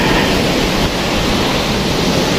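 Heavy sea waves surge and crash continuously, a loud, dense roar of surf with wind noise buffeting the microphone and no pauses.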